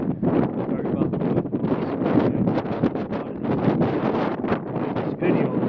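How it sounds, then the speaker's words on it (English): Strong, gusting wind at about 35 miles an hour buffets the microphone beside a river on a cold 40-degree day, a loud continuous roar with rumbling surges throughout. "It's windy."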